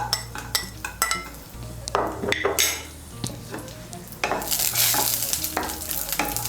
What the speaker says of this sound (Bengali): কিশমিশগুলোকেও ভেজে নেব।